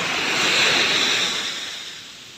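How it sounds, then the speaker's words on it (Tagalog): Seaside surf washes steadily onshore, a broad, close hiss of breaking waves that swells and then slowly recedes, with some wind across the microphone. "Dito muna tayo sa tabing dagat."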